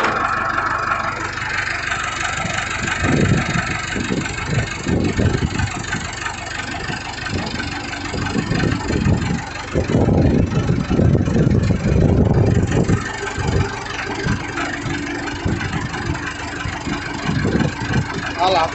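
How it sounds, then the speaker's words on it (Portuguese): Tractor 265 engine idles and runs with a steady mid-pitched rumble, rising in level as it is put into reverse, while someone talks over it throughout. "a gente já ligou o trator"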